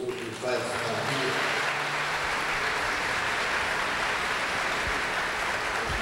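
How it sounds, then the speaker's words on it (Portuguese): Audience in a church gathering applauds to praise the Lord, a steady, dense wash of clapping that holds loud and even throughout after a brief opening. "Podemos aplaudir o Senhor que faz maravilha."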